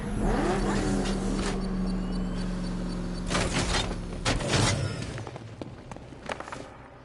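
Batmobile engine in Batman: Arkham Knight rumbling steadily with a low drone, swelling into louder revving bursts midway before easing off, with clanks and mechanical noises mixed in and no talking.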